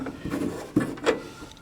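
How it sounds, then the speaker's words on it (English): A wooden cabinet drawer with an extender slides and is pushed in, giving a short scraping rub and then a couple of dull wooden knocks, close and fairly loud. "I'm going to have to push the drawer in"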